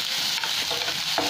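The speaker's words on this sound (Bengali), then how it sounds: "এটাকে একটু ভেজে নেবো, মিক্সিতে পিষবো।" Tomatoes, cashews and green chillies are stirred while they fry in hot oil, giving a close, bright, steady sizzle with soft scraping strokes and no voices.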